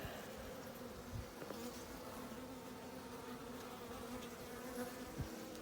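Worker honey bees buzz around a package queen's cage as she is released, a faint, steady, close hum with no voices.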